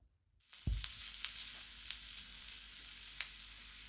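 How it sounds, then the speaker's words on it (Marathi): Paneer cubes dropped into hot oil, frying until golden; a soft thud followed by a steady, close sizzle with a few small crackles and pops, no voices. "अशा पद्धतीने हे आपल्याला छान आता तेलामध्ये थोडेसे फ्राय करून घ्यायचे आहेत"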